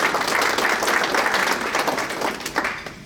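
Audience applause at a membership meeting, a dense, continuous wash of many hands clapping at close range that thins out toward the end.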